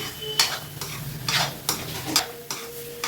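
Tomatoes frying with potatoes and fenugreek leaves in a pan: soft steady sizzle with several sharp scraping stirs of a spatula against the pan, no talking.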